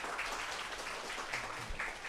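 Audience applause at the FOSSASIA open-source technology conference in Bangkok, a faint, even patter of many hands clapping in a hall, heard at a distance and continuing without pause.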